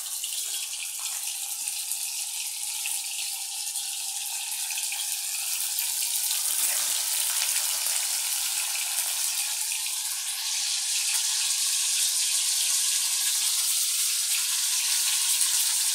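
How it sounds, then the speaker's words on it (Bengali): Fish frying in hot oil, a steady broad sizzle that holds throughout and grows slightly louder in the second half, with no voices. "একটা মাছ ছেড়ে দিচ্ছি, তেলটা কেমন গরম হলো দেখছি"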